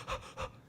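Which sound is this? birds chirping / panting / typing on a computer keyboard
panting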